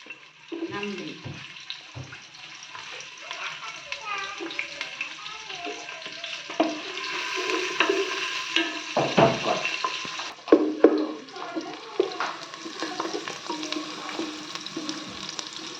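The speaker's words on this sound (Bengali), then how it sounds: "তো এখন যে পেঁয়াজ মরিচটা ভাজা হয়ে গেছে" Chopped onions and green chilies sizzle steadily in hot oil in a home kitchen pan, with stirring scrapes, clinks of a utensil and a few louder bursts, continuing without pause throughout.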